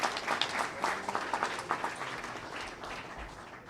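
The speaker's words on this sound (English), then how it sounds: "One more round of applause for all of our honorees this year." Soft applause at a town board meeting for honorees, a scattered round of clapping from a modest crowd, somewhat distant and fading toward the end.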